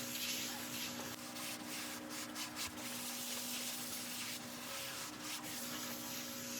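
A cloth or pad buffs a beeswax and mineral oil finish into turned yellowheart wood, giving a steady soft rubbing hiss over a constant machine hum, with a few brief scuffs in between.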